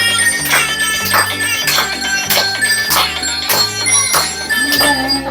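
Jingle bells ring brightly over a steady, looping music track at a baby's six-month birthday party, the chimes striking on each beat and loud throughout.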